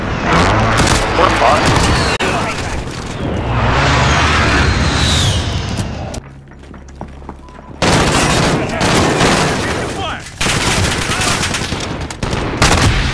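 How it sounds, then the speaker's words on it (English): Heavy gunfire and explosions from a precision airstrike in the Modern Warfare reboot, loud dense blasts with a brief lull mid-way, then more bursts, with players talking over them. "Enemy precision airstrike inbound."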